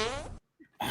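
A loud fart sound with a buzzing, rippling tone cuts off suddenly, a short gap of near silence follows, and a second loud burst comes after it.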